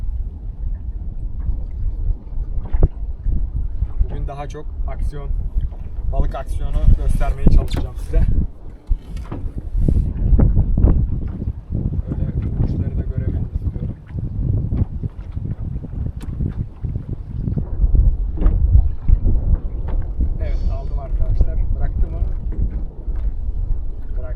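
Steady wind rumbles and buffets the microphone throughout while fishing outdoors by waves, with a voice talking over it and occasional louder gusts.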